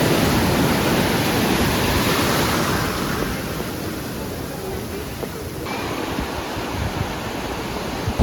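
Ocean waves wash continuously onto Majorda beach in Goa, a loud, broad roar of surf with some wind buffeting the microphone and no clear voices.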